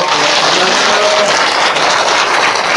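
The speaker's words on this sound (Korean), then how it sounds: "박수 한번 해주세요" Loud, dense, continuous applause from an audience at a gathering welcoming the monk Hyemin Sunim and a city mayor, filling the whole moment without talk.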